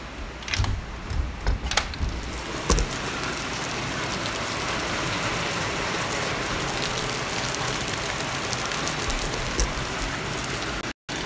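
Steady rain falling outside, a dense constant hiss of drops with a few sharp taps and clicks near the start, close and continuous, with no talking.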